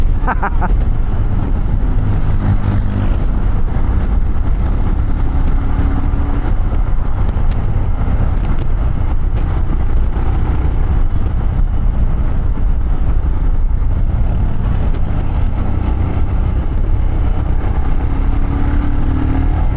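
Custom Royal Enfield Himalayan motorcycle riding along, its engine a steady, loud low drone mixed with wind rush throughout, with no clear revving peaks.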